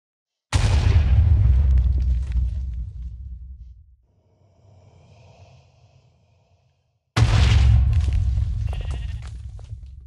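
Two loud booming blasts in Minecraft's FTB Infinity Evolved Skyblock modpack, each a sudden heavy roar fading over a few seconds, separated by a quieter rumbling pause.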